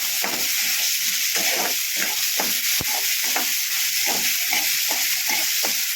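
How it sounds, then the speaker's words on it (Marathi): Chopped vegetables with onion and tomato are sautéed in a pan for a quick vermicelli breakfast. Rhythmic scraping stir strokes repeat over a constant hiss of frying. "त्यामध्ये चिरलेल्या पूर्ण भाज्या घालून घेऊ। त्या छान परतून घ्यायच्या आहेत।"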